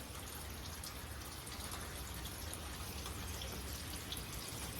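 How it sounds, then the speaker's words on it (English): Steady, dense hiss of rain falling continuously, with scattered patters of drops on a surface throughout, no voices. "Pouring down rain."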